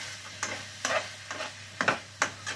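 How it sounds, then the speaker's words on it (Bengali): Frozen vegetables being stir-fried in a pan, a soft continuous sizzle broken by a series of scraping, tossing stirs at an irregular, unhurried rhythm, close and fairly quiet with no talking. "একটু কষাই নেবো ভালো করে"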